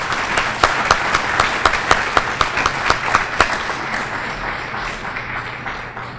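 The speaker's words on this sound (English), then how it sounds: "Let's give the 8th grade honorees an applause" Applause from the audience for eighth grade honorees at a middle school academic banquet, with a dozen or so sharp, evenly spaced claps standing out early and the clapping thinning toward the end.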